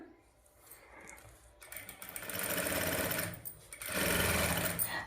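Sewing machine stitching main fabric and lining cloth together, a steady close mechanical whir starting after a quiet moment, running in two longer stretches with a brief dip between, no talk.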